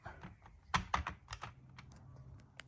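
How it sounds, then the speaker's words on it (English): Plastic interior panel on a Ford XR6 being pressed back into place, a quick run of faint, close clicks and taps, sharpest in the first second. "So now I'm just going to click this panel back into its spot, just like that."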